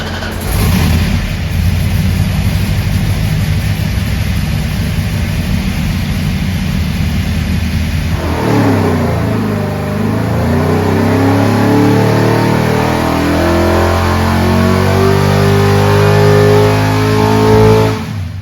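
A Six Pack Max Wedge 440 V8 roars steadily on a dyno pull, loud and close. Midway the pitch climbs and its harmonics sweep upward as the engine revs harder, holding a strong, sustained howl to the end.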